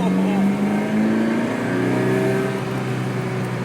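A 1989 Ferrari 328 GTS, a classic Ferrari, accelerates with a loud, close engine note that climbs steadily in pitch for several seconds, likely with a voice underneath.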